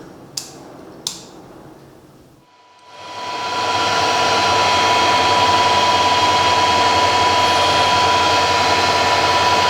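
A metal lathe chuck spinning at just over 1,000 RPM, holding alloy steel stock for a new milling vice screw. Two sharp clicks and a quiet lull come first, then the motor ramps up into a loud, steady, close whirring drone with a constant whine.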